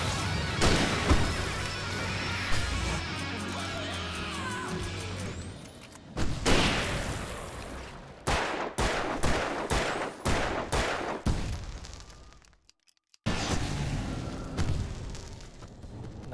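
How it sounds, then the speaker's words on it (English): A flashbang grenade detonates in the remastered PC version of the video game Alan Wake, going off as one loud sharp blast. A string of crashing gunfire-like bursts follows, with a brief drop to near silence before the din picks up again. "Nice flashbang."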